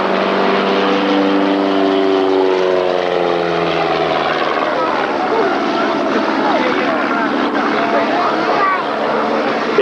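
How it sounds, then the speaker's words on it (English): An airplane with a 180-horsepower Lycoming engine dives at the Schenectady air show. Its loud, steady propeller drone fills the clip, and the pitch slides downward through the dive. "diving the airplane down, 180 horsepower, Lycoming engine built in Williamsport, Pennsylvania"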